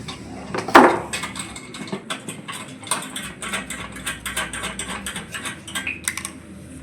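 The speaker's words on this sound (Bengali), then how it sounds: "এই নাটগুলো খুলছি।" Nuts holding the heating coil of a room heater being unscrewed during repair, a fast run of small metallic ratcheting clicks and ticks, close and fairly quiet, with no talking.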